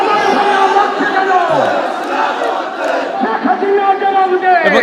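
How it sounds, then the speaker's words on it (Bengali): Protest crowd chanting slogans in unison, a loud, dense mass of voices rising and falling close by, filling the whole stretch. "তারা কিন্তু জ্বালাময় স্লোগান তুলছেন"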